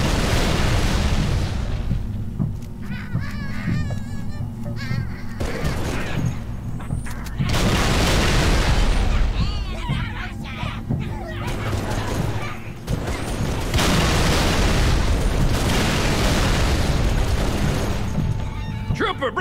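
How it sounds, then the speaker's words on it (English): Grenade explosions and heavy gunfire in the Halo 3 ODST video game. Repeated loud booming blasts land amid sustained battle noise, while soldiers shout over the combat. "Look out, grenade!"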